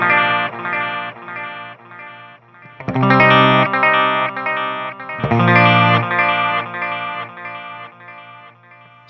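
Electric guitar chords played through a Boss DD-500 delay pedal with the lows scooped in its feedback EQ. Sustained, shimmering chords repeat in loud swells and are carried by trailing delay repeats.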